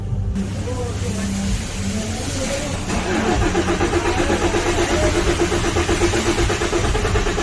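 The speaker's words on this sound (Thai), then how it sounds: "ต่อไปแล้วก็จะทำการสตาร์ท เครื่องยนต์ดูนะครับ" A Chevrolet Colorado Z71 pickup's diesel engine, after injector work, cranks, catches and settles into a loud, steady rattling idle with a rhythmic knock, close by.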